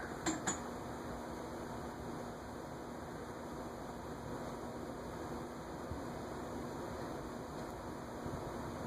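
An Envirofan model 452 ceiling fan, 52-inch, runs on medium high, giving a steady, soft whooshing airflow hum with a faint mechanical whine, even and continuous throughout, with a couple of small clicks at the start.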